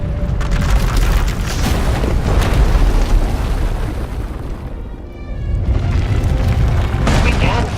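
Massive explosive eruption in the game Star Wars: The Old Republic, Knights of the Eternal Throne, loud rolling booms and rumbling blasts that ebb briefly then surge again, close and dense.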